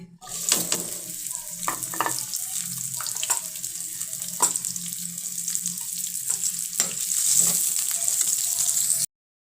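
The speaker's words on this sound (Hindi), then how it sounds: "ये हमने कढ़ाई ली है, इसके अंदर हम घी डालेंगे। अब हम इसके अंदर प्याज डालेंगे।" Onions frying in ghee in a kadhai: steady crackling sizzle with occasional sharp pops and stirring clatter, close and moderately loud, a low hum underneath.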